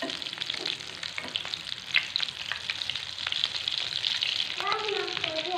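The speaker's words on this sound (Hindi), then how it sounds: "इनको हमने अच्छे से फ्राई कर लेना है।" Aloo tikki potato patties fry in a pan with a dense, close, crackling sizzle that runs throughout, with occasional spatula scrapes and a brief faint voice near the end.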